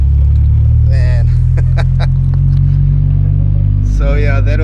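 A turbocharged and supercharged Mk2 Golf rumbles loud and close from inside the cabin, its engine droning steadily while people talk over it.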